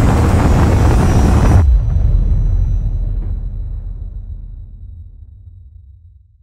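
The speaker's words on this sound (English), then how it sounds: "Incoming missile!" Incoming missile exploding in Call of Duty Modern Warfare: a loud, roaring blast fills the first moments, then cuts to a deep rumbling aftermath that slowly fades out over several seconds.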